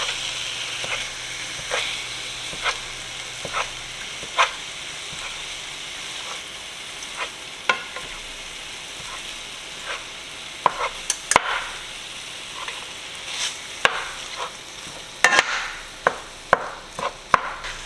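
Ground beef browns in a pan under a soft steady sizzle while a utensil repeatedly breaks it up and stirs, giving sharp taps and scrapes that grow busier toward the end.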